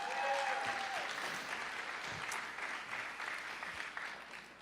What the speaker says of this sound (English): can we give our tourists a round of applause?